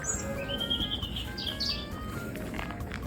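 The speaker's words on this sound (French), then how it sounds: "Oh, les oiseaux" Small birds chirp and tweet in quick, bright bursts along a quiet town street on a long walk toward Paris, fairly close, over a steady outdoor hum with no talking.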